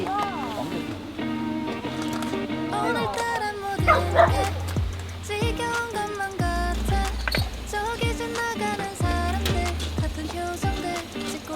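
Dog barking repeatedly at a rainy campsite, apparently set off by a cat nearby; sharp, fairly close barks come in bursts over steady rain and a music-like tonal backdrop, with some whimpering yips.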